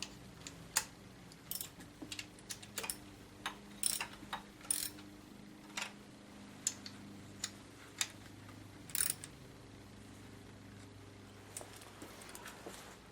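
A ratchet snugs the bolts on a Mercedes-Benz M104 engine during head gasket reassembly on a W202 C280, giving short bursts of quick, fairly faint clicks that repeat at irregular intervals over a low, steady background hum.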